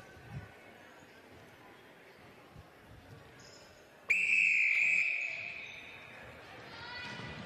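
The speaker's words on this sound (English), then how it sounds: "Nice delayed start with the whistle." A referee's whistle signals the start of a netball quarter in a Samsung Premier League semi-final between UTS and St George, one sharp loud blast over indoor court ambience with faint commentary beneath.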